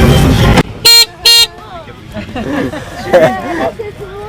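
Two short, loud horn toots from a racing lawn tractor ring out close by, followed by chatter and crowd babble.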